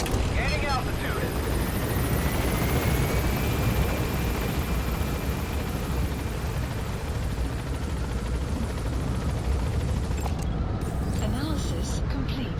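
In Metal Gear Solid V, a helicopter gains altitude with a continuous, even rotor roar and a faint high whine, steady throughout before a brief dip near the end.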